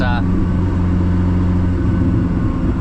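A Koenigsegg CC850 supercar engine revs loudly from inside the cabin, a deep rumbling drone holding steady throughout while a voice speaks over it.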